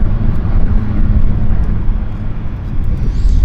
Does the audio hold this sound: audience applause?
no